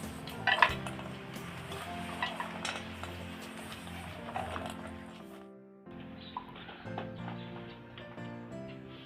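A spoon stirs a peanut and flour masala mix for kalla pakoda, clinking and scraping against the vessel in quiet irregular bursts under background music.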